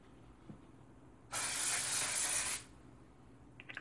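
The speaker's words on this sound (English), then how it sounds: "And then it says to spray over your hair again" One long hissing burst from an aerosol hair spray can, just over a second, close and fairly loud, in an otherwise quiet room.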